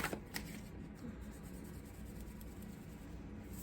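Tarot cards shuffled by hand in a steady, papery riffle and slide, soft and close, with a sharper flick near the start and no voices.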